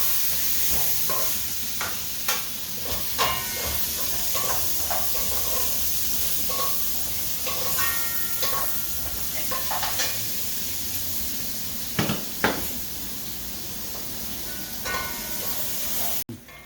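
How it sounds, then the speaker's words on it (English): Onion and garlic frying in fresh oil in a kahari pot: a continuous hissing sizzle with scattered pops and crackles, fairly close, with a couple of sharper spits near the end. "So I'm gonna put my onion, put some garlic"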